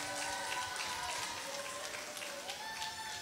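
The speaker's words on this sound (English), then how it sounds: "make some noise and clap your hands" An audience at a primary and infant school awards ceremony claps steadily, a dense patter of many hands that stays even throughout, with faint voices mixed under it.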